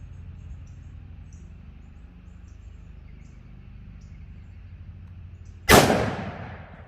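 A single sharp .357 Magnum gunshot cracks loudly into ballistic gel blocks after several seconds of quiet background hum, its report decaying quickly.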